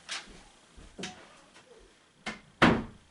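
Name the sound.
door closing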